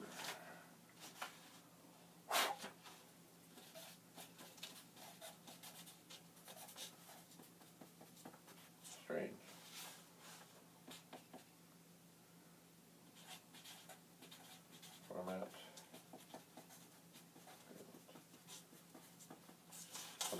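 A pen writing by hand on paper, faint soft scratching strokes that come in short bursts with quiet pauses, a few louder bumps and rustles in between and no talking.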